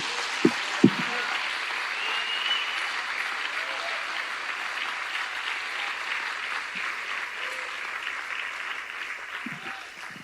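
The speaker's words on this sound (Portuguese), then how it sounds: "Dê um aplauso para o Espírito Santo agora." Church congregation giving a round of applause during a sermon, steady clapping spread through the room at moderate loudness, with a few sharp knocks at the start.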